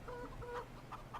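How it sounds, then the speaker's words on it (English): Farmyard chickens cluck in Farming Simulator 17, with several short, bright clucks scattered over a steady low background hum. "Look at our chickens."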